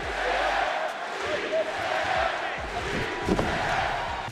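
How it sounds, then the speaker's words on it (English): A packed wrestling arena crowd chants in unison, a loud, sustained roar of massed voices echoing through the hall. "As she said yes chants then echoed throughout the arena."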